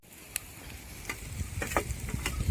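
Peanuts roasting in a pan for chapati poha, giving a low steady sizzle with scattered light crackles and occasional stirring scrapes, close and fairly quiet, no voices.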